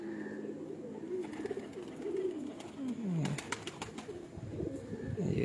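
Pigeons kept by a fancier coo repeatedly nearby, low swooping throaty calls rising and falling, while a burst of sharp clicks or taps sounds in the middle of the clip; no speech.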